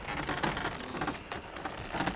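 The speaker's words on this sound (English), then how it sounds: "Quench it in the water." Hot metal quenched in water in the blacksmithing of Kingdom Come Deliverance 2, a steady broadband hiss and crackle of steam that holds for about two seconds with small surges, with no speech.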